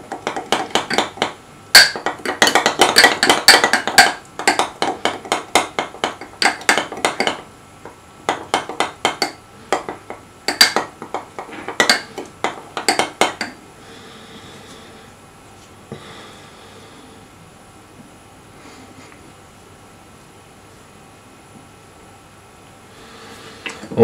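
Sourdough starter mixed in a glass jar: a quick run of close, loud clinks and scrapes of a utensil against glass, which then gives way to softer, scattered handling noises and near quiet.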